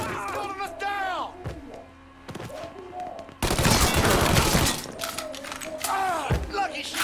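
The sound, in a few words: gunfire in video game Mafia III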